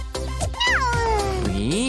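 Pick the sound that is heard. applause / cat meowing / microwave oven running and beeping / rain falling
cat meowing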